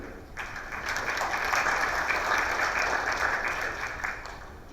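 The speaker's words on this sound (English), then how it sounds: "a round of applause for Mr. Nath" Sustained applause from a business summit audience in Singapore welcoming a speaker, steady dense clapping filling the hall at moderate loudness for several seconds.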